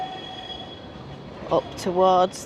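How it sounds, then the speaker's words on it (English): A Blackpool tram rumbles past nearby with a steady low drone, then brief wheel squeals and a rising tonal whine near the end. "So here's the tram"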